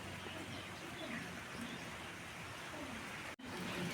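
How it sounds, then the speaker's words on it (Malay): Soft steady hiss of light rain falling outdoors at Taman Buaya & Rekreasi Melaka, faint and continuous, with a faint bird call somewhere in the background. "Hujan mula turun time ni"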